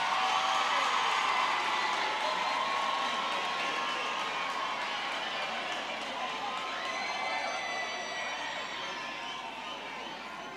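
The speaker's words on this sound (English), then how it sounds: "Let's give this one a round of applause before." The audience at a university autumn graduation ceremony applauds and cheers for the best student in applied mathematics. Broad, sustained clapping mixes with whoops and crowd voices, holding loud before slowly easing off.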